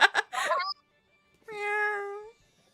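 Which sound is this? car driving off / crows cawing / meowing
meowing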